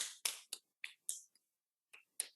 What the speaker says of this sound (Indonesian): Seluruh tubuh saya tepuk-tepuk begini.